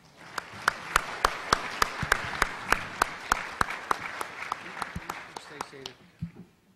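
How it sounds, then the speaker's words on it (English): A modest audience applauds a panel at a strategy session, with sparse, distinct claps close by that thin out and fade toward the end. "let's have a round of applause for our panel"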